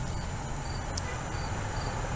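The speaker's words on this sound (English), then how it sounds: "I can hear the crickets." Crickets chirp steadily on a night walk, a continuous high-pitched trilling chorus that is soft and even, with a faint low background hum underneath and no talking.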